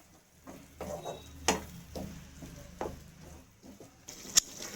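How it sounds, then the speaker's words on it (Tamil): Tomatoes sauté over onions in a pan for a chicken gravy, giving a quiet, close sizzle broken by the scrape and tap of stirring. A few sharp clinks from the utensil stand out against the low frying. "இப்போ தக்காளி நம்ம ஊற்றிக்கணும். நல்லா வதங்கணும். பொன்னிறமாக வதக்க வேண்டும்."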